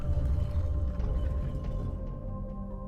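A low, moaning whale call from the video game Riven drifts and fades over a deep rumble, faint and distant, with a few soft ticks toward the end.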